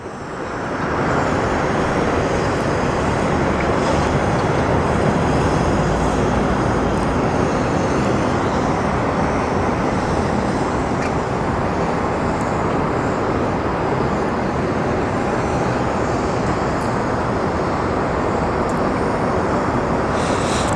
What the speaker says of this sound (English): So we're going to get FedEx 3809 going to Oakland.